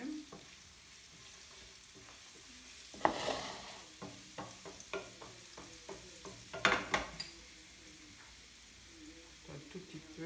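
Carrots and garlic sizzle gently in a heating pan, with intermittent stirring scrapes and a few sharper bursts of hiss, fairly quiet and close.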